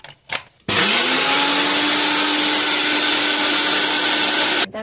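A blender grinds poppy seeds and green chillies with a little water, starting abruptly after a few faint clicks and holding a loud, steady motor whir before stopping at the end.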